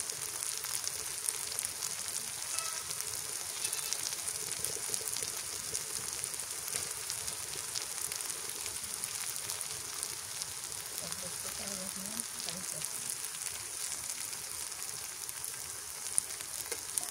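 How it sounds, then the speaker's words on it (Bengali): Small river-prawn fritters, chingri bora, fry in oil in a pan: a soft, continuous sizzle with fine crackling, fairly faint and steady, with no voices over it. "চিংড়ি মাছের বড়া ভাজতে বেশি একটা সময় লাগলো না"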